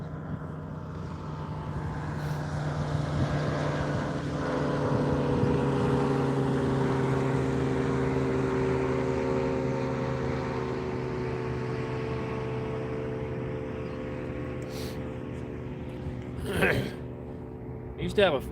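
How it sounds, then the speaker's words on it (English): A boat engine drones across the water, its hum swelling and fading slowly, with a couple of brief sharp noises near the end. "Oh, here comes a boat. I hear a boat."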